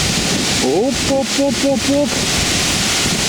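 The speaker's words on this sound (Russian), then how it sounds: "Нифига, ветрюган такой." Strong gusty wind buffets the microphone with a loud, continuous roar outdoors at the abandoned third construction stage of the Chernobyl nuclear power plant. A man briefly chants a short syllable repeatedly over it.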